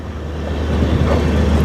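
A train with a large engine starts rolling again after service was halted, giving off a loud, continuous low rumble that swells slightly over its short span, with no talking.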